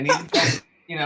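A single sneeze bursts out between stretches of a lecturer's speech in a recorded college English class, loud and close, with talking resuming right after.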